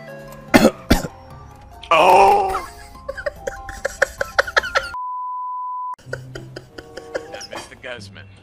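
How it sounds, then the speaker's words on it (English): A person coughs in a couple of sharp, close bursts inside a car in a GTA 5 roleplay game, followed by throat clearing and voices, with a steady beep tone cutting in partway. "no coughing in my car"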